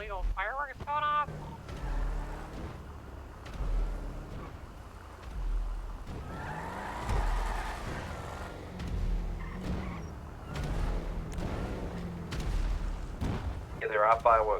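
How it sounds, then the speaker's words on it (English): Booms and pops of fireworks go off somewhere in a roleplay game city, arriving as scattered bursts with a car-like rumble while players talk over radio-style chatter. "We got what sounds like illegal fireworks going off."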